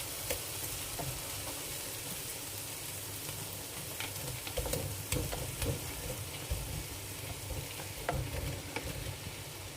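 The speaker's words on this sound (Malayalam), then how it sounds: "മസാല നന്നായി റോസ്റ്റ് ആയിട്ടുണ്ട് ഇനി ഇതിലേക്ക് ചിക്കൻ ഇടാം" Chicken pieces sizzle and fry in roasted masala for biryani while a spoon stirs the pan, a steady dense crackling hiss with intermittent scraping clicks, close and continuous without talk.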